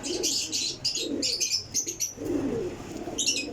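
Sialkoti pigeons kept by a breeder coo in low repeated throaty bursts, mixed with sharp higher chirps and a brief flutter, close and clear with no talking.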